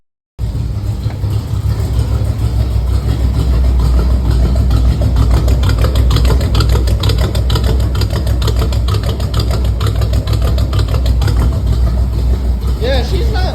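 A cold 305 small block Chevy V8 idles in a truck, a steady, loud, low rumble that runs without a break from start to finish.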